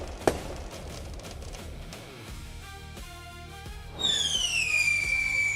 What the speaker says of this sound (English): Fireworks? Oh, sure.